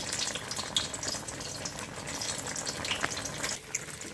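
Whole tomatoes with green chillies cooking in a pot, a soft, continuous bubbling and hissing with faint watery movement, quiet and close, no voices.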